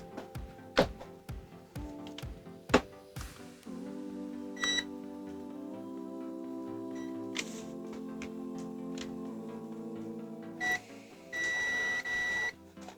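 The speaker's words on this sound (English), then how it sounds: "all I'm doing there is shorting the probes for continuity" Continuity beeps from a Uni-T UT210E multimeter as its probes are shorted together: a few short beeps, then a long sustained tone and later more beeps, close and clear with no talking.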